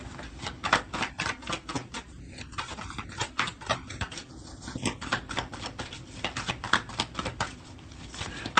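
Tarot cards are shuffled with rapid, close, rhythmic riffling and flicking. The sound is continuous and moderately loud, with no talking.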